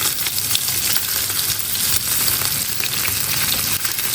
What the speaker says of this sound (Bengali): এই জন্য লাস্টে একদম মাছ ফ্রাইটা করলাম